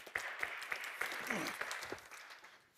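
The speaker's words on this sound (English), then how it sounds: "So a big round of applause again to Ben, Paul, and Jack." Faint, distant audience applause at a panel discussion on community security and safety, a soft continuous patter of clapping that stays steady throughout.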